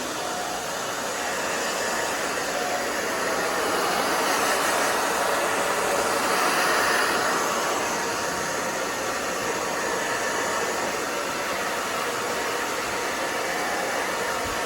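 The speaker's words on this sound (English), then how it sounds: "I'm gonna just start my blow drying. Just blow dry the back down." A hair dryer blows steadily while drying the back of a short pixie cut on coarse hair, a continuous loud broadband whoosh that swells slightly midway and runs without pause, with no talking over it.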